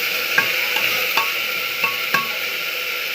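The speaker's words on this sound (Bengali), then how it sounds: "আলু, পেঁপে, গাজর আর একটু বিনস দিয়ে সুন্দরভাবে সবজিটাকেও কিন্তু আমি কষিয়ে ফেলছি" Potato, papaya, carrot and beans sauté in a pan over an even sizzle, with a run of distinct scraping stirs and light knocks coming roughly every half second, close and clear, with no speech.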